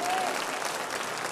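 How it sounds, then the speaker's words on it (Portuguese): A church congregation at a Portuguese-language service claps together in a brief burst of dense, steady applause that fills the room. "Você pode dar um aplauso para o Senhor Jesus"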